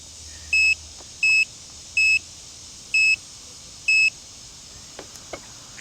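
A multimeter being switched to its 20 amp range for a fuel pump test gives five short, evenly spaced electronic beeps, loud and close, followed by a few faint clicks.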